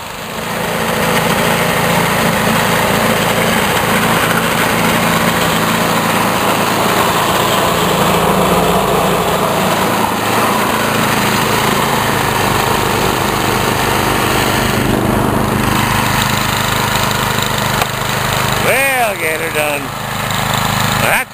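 Snowblower engine running steadily while clearing a driveway, a loud, close, continuous high-pitched drone that holds throughout, with someone speaking over it near the end.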